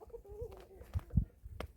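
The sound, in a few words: chickens in the background on a hobby farm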